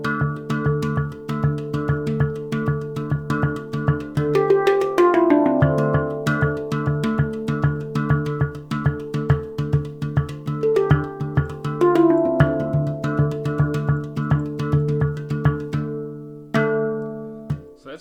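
Handpan, or hang drum, struck by hand in a steady drum and bass rhythm, with quick repeated strikes and ringing metallic tones layered over each other, played close and moderately loud for the full length without talk.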